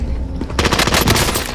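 Close, loud rapid-fire gunshots from an EM2 bullpup rifle in a multiplayer shooter game, a dense rattling burst that kicks in after a brief quiet moment and continues to the end.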